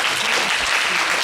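Church congregation at a Korean youth Sunday worship service applauding, a dense, continuous burst of clapping from many hands filling the room at full loudness for its whole length.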